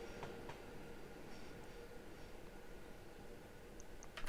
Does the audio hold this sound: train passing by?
yes